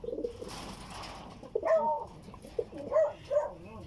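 Racing pigeon returning home to the loft after a derby race, cooing in a few soft close calls, with brief bursts of other noise early on.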